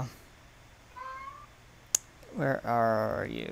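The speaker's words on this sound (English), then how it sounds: "I can't tell if that was a kid in the background or if that was a cat meowing" A house cat meows in short, wavering cries, partly overlapped by a person speaking nearby over a faint background hum.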